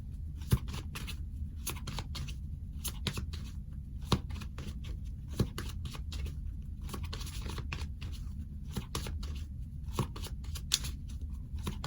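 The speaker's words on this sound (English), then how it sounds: "I'm going to go ahead and start shuffling the deck." A deck of tarot cards is shuffled continuously, with steady rustling and flicking and occasional sharper snaps, close up with no voice.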